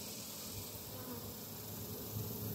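Honey bees moved from a swarm trap into a new hive hum as a close, dense, continuous buzz with no pauses, alone.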